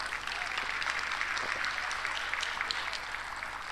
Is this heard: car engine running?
no